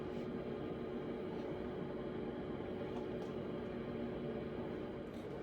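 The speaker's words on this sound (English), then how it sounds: "I'm going to finish cooking or air frying." A steady mechanical hum and whir of a running air fryer fan, constant and unchanging, close by with no talking.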